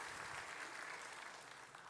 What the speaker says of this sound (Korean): 우리 박수 격려 해주시고